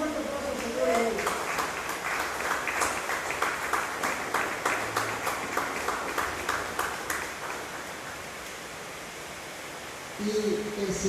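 Church congregation claps for the Lord in a sustained, dense round of applause, with voices mixed in near the start and end as it fades slightly.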